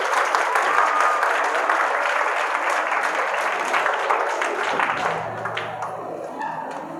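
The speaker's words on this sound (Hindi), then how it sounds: "तालियां नहीं होनी चाहिए?" An audience at a school entrepreneurship and leadership foundation launch in Hyderabad breaks into sustained, dense applause that fills the room steadily before tapering slightly toward the end.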